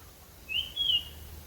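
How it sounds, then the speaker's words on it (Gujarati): Outdoor birds give a couple of short, thin chirps a little way off over a quiet background. "અહીંયા તો સરસ મજાના પક્ષીઓનો અવાજ આવે છે"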